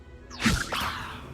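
A Levioso spell cast in the Hogwarts Legacy video game, a single bright swooshing whoosh with a sweeping magical shimmer that rises, settles and trails off over about a second, loud and close with no talk.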